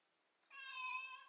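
A cat meows once, a clear drawn-out call close by in a quiet room.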